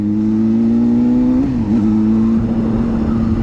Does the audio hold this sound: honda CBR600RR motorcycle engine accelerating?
yes